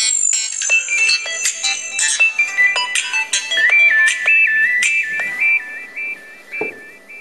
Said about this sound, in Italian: La terribile musichetta di avvio che non ci piace, che non la vogliamo